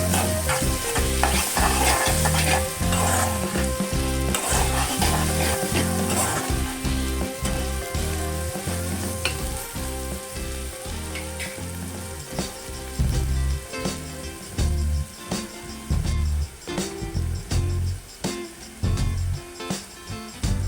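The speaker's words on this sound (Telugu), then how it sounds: "ఇప్పుడు ఇదంతా మంచిగా వేగిన తర్వాత కొంచెం పసుపు, అల్లం ఎల్లిగడ్డ వేసుకొని అయితే మంచిగా కలుపుకోవాలి." Bitter gourd frying in a pan with turmeric, ginger and garlic, a steady loud sizzle broken by rapid scraping strokes of a spatula stirring throughout, with no talk.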